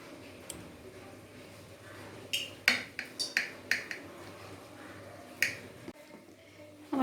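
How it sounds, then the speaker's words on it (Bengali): A knife cuts dhoka, a Bengali lentil cake, into pieces, giving a series of sharp, close clicks and taps on a board, irregular and spaced apart, over a quiet background. "এবার আমি পিস পিস করে কেটে নিচ্ছি।"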